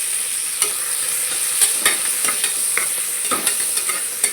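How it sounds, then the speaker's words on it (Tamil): Chopped tomatoes sautéing in a pan over onions already browned, a steady sizzle broken by repeated scraping stirs of a spoon, close and fairly loud, with no talking. "இந்த தக்காளி கொஞ்சம் ஸ்மாஷ் ஆகிற அளவுக்கு நல்லா வதங்கட்டும்"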